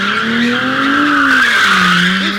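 Loud, close tire squeal from a JDM street car drifting, held continuously with an engine tone that rises and falls beneath it; no voices.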